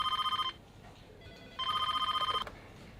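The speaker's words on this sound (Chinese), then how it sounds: "电话在响。" Office desk telephone ringing in two loud bursts of rapid electronic trilling, separated by a short pause, with faint room ambience between rings.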